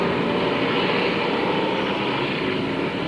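Rookie race cars roar around Canaan USA Speedway in a loud, continuous engine drone that holds steady without pause.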